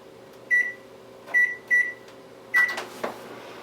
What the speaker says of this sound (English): 4 minutes in the microwave for a nice steamed corn on the cob